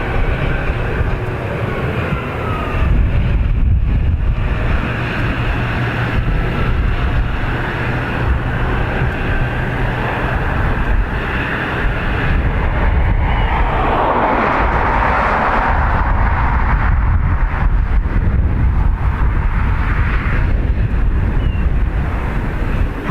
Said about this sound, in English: EI 101 and A321neo heading off to New York